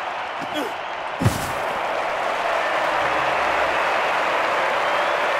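Stadium crowd applauding a men's triple jump in the London 2012 Olympic video game, a broad sustained roar of clapping and cheering that swells after a sharp thud and continues loud and even, with a commentator's voice over it.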